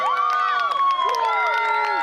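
A schoolboy rugby crowd at a First XV match between New Plymouth Boys' High and Tauranga Boys' College cheers and shouts loudly in a sustained roar of many excited young voices.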